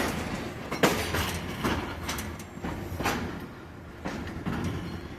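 A train switches onto a siding with rhythmic clicks and clunks of wheels over rail joints, moderately close, with a faint hum underneath.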